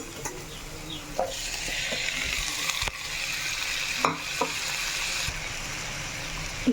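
Chopped tomatoes cooking in a pan with salt, a soft continuous sizzle with a few scraping stirs and knocks of a spoon, close and fairly quiet, no voices.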